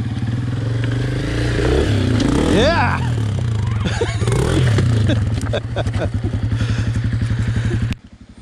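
Close, loud motorcycle engine revving with a rising whine, then rapid clattering pulses of a lumpy idle before it abruptly drops off, with voices talking over it.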